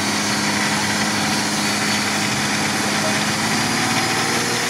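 Nissan Patrol off-road vehicle idling at an off-road competition, a steady close engine rumble running throughout with constant vibration and no pauses.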